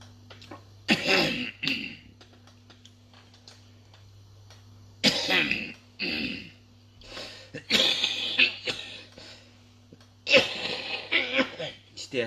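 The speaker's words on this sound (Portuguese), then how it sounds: "Isto é a tosse porque me engasguei com a água." Several bursts of harsh coughing from choking on water, in clusters, separated by quiet pauses with a low steady hum underneath.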